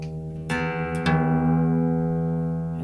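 A guitar string plucked and left ringing while its tuning peg is turned counterclockwise, with two sharp fresh plucks about half a second apart over the sustained tone, quiet and close with no talking.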